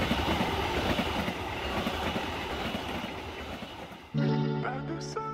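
A Kahuripan economy class passenger train runs on rails in Indonesia, giving a steady close rumble with wheel clatter for several seconds before a sustained tonal sound joins in near the end.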